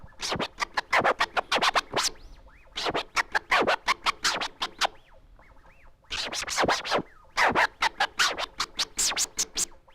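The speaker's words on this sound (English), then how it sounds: "you play the swing flare continuative and you go step by step through the sound" Rapid turntable scratches using the swing flare technique, in quick rhythmic bursts, repeated in three phrases with short pauses between, loud and close with no talking.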